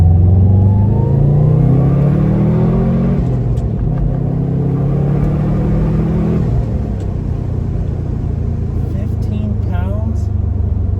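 A Subaru STI accelerating hard in Sport Sharp mode, its engine rising through the revs from inside the cabin with a gear change midway, loud and steady, with people talking over it.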